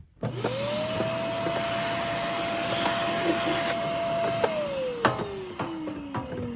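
A Eureka Airspeed vacuum cleaner with a clog whines at a steady high pitch for several seconds, then powers down with a falling tone, a few clicks following.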